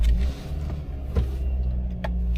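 A Toyota Rav4, left parked for a couple of days, cranks and fires up first time, settling into a loud, close, low engine rumble with brief clicks.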